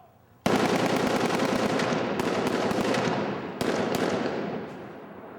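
Rapid bursts of blank gunfire on a staged shootout set for the TV series 24, loud and close, a sustained volley with a brief gap and a second burst, no talk over it.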